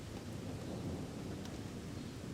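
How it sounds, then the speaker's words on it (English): Distant thunder rumbling under a severe thunderstorm during an outdoor barbecue cook, a faint low steady roll blended with rain-like hiss, brief and without any talking. "Hear that rumbling going on, but we are under a severe thunderstorm warning here"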